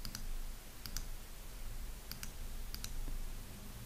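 Several sharp computer mouse clicks, mostly in close pairs, spaced irregularly over a low steady room hum while a website header is built in the Wix editor; no one speaks.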